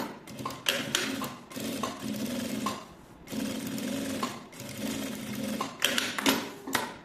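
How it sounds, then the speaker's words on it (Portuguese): Sewing machine stitching layered lining and main fabric for a small handmade vanity case, running in steady close bursts with brief pauses between seams. "Ajeito todo o meu tecido e faço a costura."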